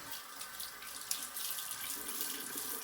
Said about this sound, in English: I'm going to wet my face